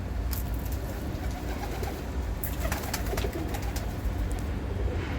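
Pigeons in a wire-enclosed breeding coop, soft continuous cooing and fluttering close by over a steady background hum, with scattered brief wing flaps and rustles.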